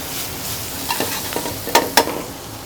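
Vegetables frying and caramelizing in a hot pan, a steady close sizzle with a few sharp scraping stir strokes near the end, no talk.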